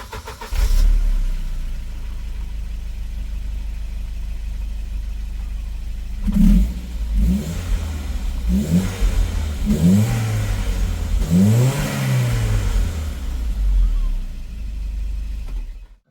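A Volvo 940 on its standard exhaust starts and idles low, then revs in a series of short, close blips that rise and fall before settling back to idle.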